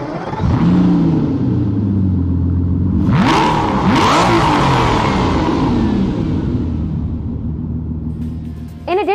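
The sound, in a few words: car engine starting and revving in video game Forza Motorsport 4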